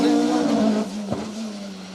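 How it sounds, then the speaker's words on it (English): A rally car on an asphalt stage at Rali Ceredigion, a loud sustained engine note that drops in pitch as the car passes and recedes. "Gaz Thomas car sounds amazing, he says."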